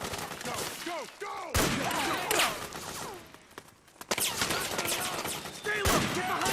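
Bursts of gunfire and rapid machine-gun volleys from a Metal Gear Solid 4 battle, loud sharp blasts repeating in clusters with shouted voices mixed in.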